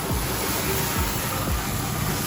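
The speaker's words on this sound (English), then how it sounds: "so now it's time to deglaze. Grab our nice white wine." White wine sizzles as it deglazes a hot pan after pan-searing black cod, a loud, steady hiss that runs unbroken throughout with no voices.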